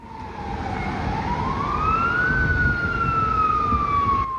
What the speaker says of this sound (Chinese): 消防车呼呼叫